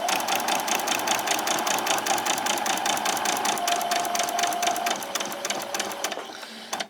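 A sewing machine stitches a summer top in a fast, continuous run of rapid needle strokes, loud and close, slowing and stopping at the very end.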